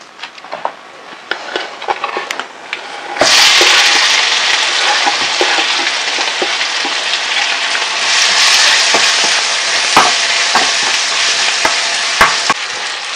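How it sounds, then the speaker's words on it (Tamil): Onions and asafoetida powder sautéing in a pan for sundakkai vatha kuzhambu, starting with quiet crackles and then jumping to a loud, steady, close sizzle with occasional stirring scrapes. "அதை எல்லாத்தையும் வதக்கிட்டு பெருங்காயத்தூளும் இப்போ வதக்கிற போறேன்"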